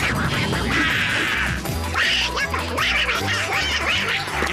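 Cartoon ducks trained in judo quacking in a rapid, busy chorus over a music bed and scuffling hits, with a voice briefly under the commotion.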